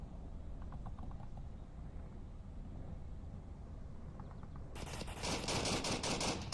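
Gunfire in the VR shooter Onward during a competitive match, a steady rattle of rapid shots under low background noise that turns into a loud, dense burst of fire in the final seconds.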